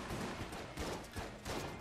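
Sniper rifle shots in the Enter the Gungeon video game ring out as a rapid series of loud, evenly spaced cracks over a dense wash of game noise.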